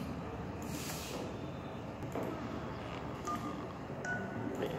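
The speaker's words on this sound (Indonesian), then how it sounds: "Itu masukin nomor handphone ya." Telephone keypad tones as a mobile phone number is entered, a few short beeps spread over several seconds against a noisy, hissy background.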